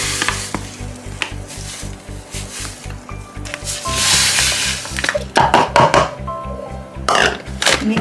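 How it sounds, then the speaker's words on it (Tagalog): Glutinous rice flour and sugar are mixed together by hand in a bowl for sapin-sapin, a Filipino layered rice cake, giving close, uneven scraping and stirring strokes that swell and fade in bursts, with no one talking. "Mix lang natin yung ating glutinous and sugar."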